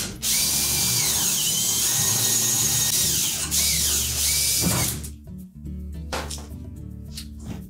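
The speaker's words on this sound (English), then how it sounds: "using an 1/8 inch bit and a portable drill, we're just going to drill those out first" A portable drill with a 1/8 inch bit whines loudly as it bores through a rivet on a Whirlpool refrigerator grill, pitch dipping under load, then a pause and a few shorter bursts of grinding.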